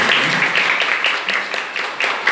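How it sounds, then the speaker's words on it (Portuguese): Applause from a gathered crowd at a 100th birthday celebration, steady overlapping hand clapping at moderate volume with loose, uneven rhythm throughout. "salva de palmas para o aniversariante"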